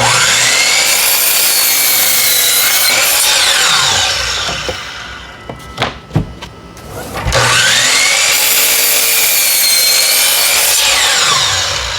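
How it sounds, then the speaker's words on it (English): A miter saw cuts strips from a 1x8 wooden board. Two loud, close cuts, each a sustained whirring rip lasting several seconds, are separated by a short pause with a few clunks. "I'm going to start here at the miter saw and I'm going to cut a couple 10 inch strips out of this 1x8."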